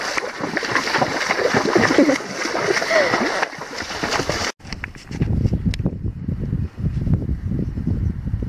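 Horses splash through water on a trail ride, with choppy bursts of splashing and sloshing, a sharp break midway, then closer, heavier wading splashes, while people talk over it.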